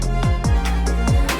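Layered dance-pop production stacks a pumping groove with deep, pitch-dropping bass hits under Latin piano, string and brass stabs, dense, loud and continuous without any voices.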